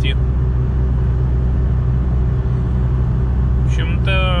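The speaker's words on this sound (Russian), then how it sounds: "сейчас слышим шум ветра, а трансмиссию мы не слышим" Steady wind and road roar inside a 2021 Lada Niva Travel cruising on a highway, a constant low rumble throughout, with brief speech-like sounds near the end.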